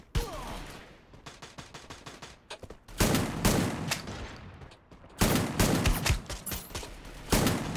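Rapid shotgun and automatic gunfire in the battle-royale game Free Fire Max, volleys of sharp shots crackling steadily, then swelling into two much louder, denser bursts partway through and near the end.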